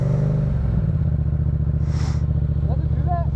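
A motorcycle engine revs high and then drops to a lumpy, pulsing idle close by, with people talking over it.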